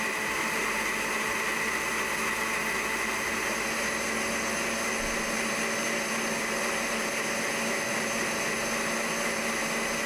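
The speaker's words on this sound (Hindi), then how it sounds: "उसके बाद इसको दोबारा से ग्राइंड करेंगे" A blender grinding strawberries with lemon and water into juice, a loud, steady motor whine with a constant pitch that runs unbroken for about ten seconds.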